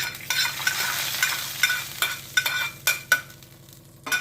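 Mustard seeds splutter in hot oil while being tempered for a palak keerai gravy, giving a steady dense sizzle broken by sharp crackling pops, with no talking.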